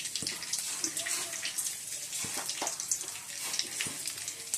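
Panch phoron spices sizzle in hot oil in a wok, making a bright continuous hiss scattered with small pops and crackles, close and fairly quiet.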